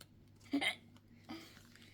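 A child hiccups twice after a fit of laughing, two short sharp catches spaced about a second apart against a faint quiet room background.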